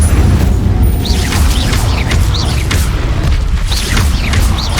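Repeated Incendio fire spell casts in Hogwarts Legacy, loud booming bursts with whooshing, rising magical swishes over a constant low rumble of game combat, several casts in quick rhythm and no talk.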